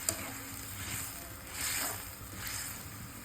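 Gentle bubbling and sizzling from a pan of pav bhaji with tomato paste simmering on the stove, steady and close, with faint swells of hissing.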